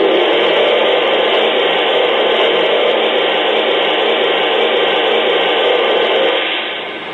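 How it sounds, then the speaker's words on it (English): A Lionel Canadian National 4-6-0 Ten Wheeler model locomotive's cylinder steam sound effect, a continuous hissing, steady broadband whoosh from a small speaker that holds level for several seconds, then fades away at the end. "Here's the cylinder steam sound."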